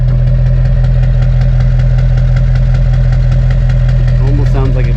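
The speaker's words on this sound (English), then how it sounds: "You hear one injector." A Duramax LB7 diesel engine with a faulty injector idles steadily up close, with a rhythmic ticking knock repeating throughout; a brief voice-like tone appears near the end.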